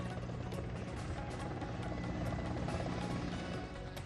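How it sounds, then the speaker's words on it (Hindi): An Army Chinook helicopter flies over SNM Hospital in Leh during a flower shower, its rotor roar a steady, dense wash for several seconds without any voices. "लेह के एसएनएम अस्पताल पर भी सेना के चिनूक हेलीकॉप्टर से की गई पुष्प वर्षा।"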